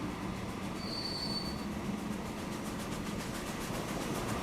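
A train running on its line in Transport Fever 2, a steady loud rumble of rolling wagons with wheel squeal and a faint rhythmic clatter, continuous and close, with no voices.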